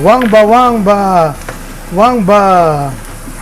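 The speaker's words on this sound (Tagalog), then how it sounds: "So, gisa na tayo." A voice talks or hums loudly over a soft hiss of oil sautéing in a pan for menudo.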